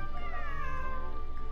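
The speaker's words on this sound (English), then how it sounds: "This is my friend's cat." A cat meows in Genshin Impact, a single drawn-out, wavering call that sits up close and stands alone over a steady low game backdrop.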